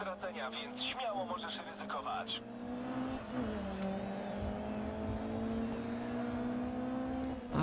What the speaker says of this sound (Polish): Fajny odgłos piłowania.